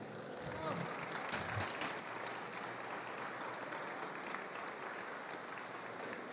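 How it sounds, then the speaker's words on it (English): Audience applause at a Star Wars fan convention panel, Festival of the Force, a steady dense wash of clapping from a sizeable crowd, fairly close and sustained throughout with some voices mixed in. "Round of applause, please."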